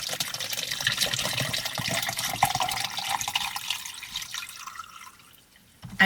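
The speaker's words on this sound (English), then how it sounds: "And we're gonna fill this with water." Water gushes from a tap into a drink-mix container for a pre-workout shake, a loud steady pour that softens and thins as the vessel fills, then stops abruptly with a brief clatter at the end.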